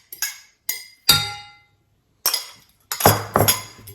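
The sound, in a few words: whisking whole eggs in a bowl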